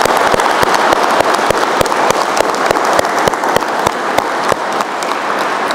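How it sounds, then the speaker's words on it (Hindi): Loud, sustained clapping from a large audience at a yoga workshop at a university, dense and even throughout with a few sharp, distinct claps standing out. "जोरदार ताली अपने लिए"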